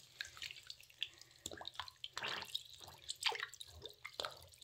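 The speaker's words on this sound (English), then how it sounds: "Okay, I washed Heather." Something is washed under running water at a sink, with irregular splashes, trickles and drips that come and go in uneven bursts, fairly quiet and close.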